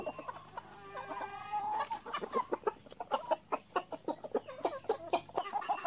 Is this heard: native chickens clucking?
yes